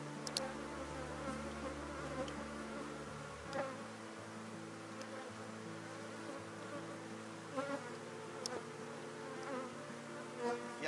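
Apis honeybees buzz around an opened hive during a colony split, a dense, continuous drone of many wings close by, with occasional louder bees passing near and soft handling knocks.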